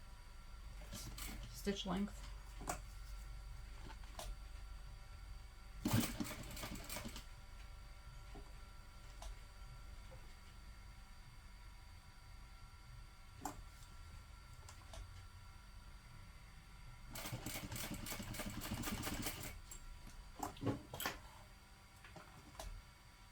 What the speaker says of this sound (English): Now we're just going to sew up one side, across beneath the connector, and then down the other side.